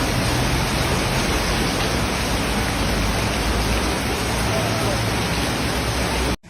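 Steady, dense hiss of heavy storm rain in Charleston, South Carolina, pours continuously at an even level, broad and enveloping, until it cuts off abruptly at the end.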